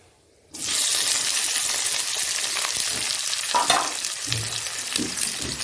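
Chopped onions hit a hot pan and sizzle loudly and steadily, a dense frying hiss with a few stirring scrapes and light clinks near at hand, with no voices.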